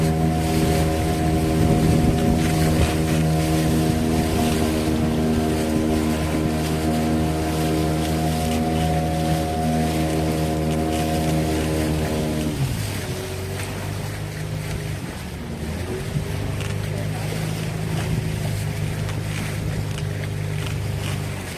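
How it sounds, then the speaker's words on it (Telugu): A boat at sea off Palolem beach passes between two hills. Its motor drones steadily and loudly, then shifts pitch partway through, with water and wind noise around it. "రెండు కొండల మధ్యలో వెళ్తుంది బోటు"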